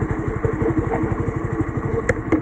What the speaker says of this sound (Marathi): आपण बाईक साईडला घेऊया आणि रिचेक करूया